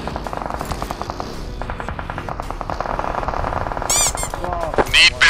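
Rapid bursts of automatic gunfire crackle through a PUBG Mobile match on the Miramar map, repeated shots in quick rhythm, with players talking over it and a few sharper louder blasts near the end.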